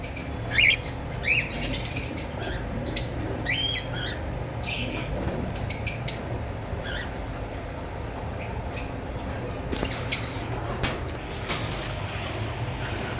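Red-eyed albino personata lovebirds, a breeder pair, give brief chirps and squawks at moderate distance over a steady low hum of background noise.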